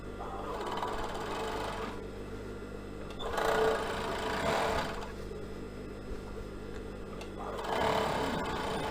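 A sewing machine stitches a waistband in three close, steady whirring runs, each split by short pauses, with no talk.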